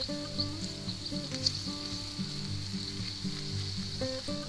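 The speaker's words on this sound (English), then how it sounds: "let's give our sausage another stir here" Sausage, peppers and onions frying in a pan give a steady, close sizzle and crackle with a soft hiss, punctuated by a few louder pops and the scrape of stirring, with no one talking.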